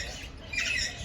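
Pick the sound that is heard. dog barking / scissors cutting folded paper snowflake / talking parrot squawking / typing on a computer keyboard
talking parrot squawking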